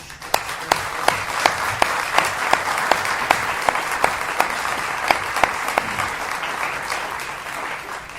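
An audience applauds the Mil Caminos team at a talk on mystery soundtracks and real cases: a sustained crowd clapping with a few sharp, distinct claps standing out nearby in a loose rhythm, continuing evenly throughout.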